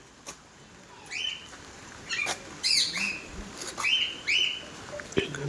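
Peach-faced lovebirds chirp and squawk repeatedly in sharp, high bursts, several birds calling close by over a steady background hiss.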